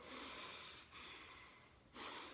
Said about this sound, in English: Adjust them at an intensity that allows you to comfortably breathe in and out of your nose.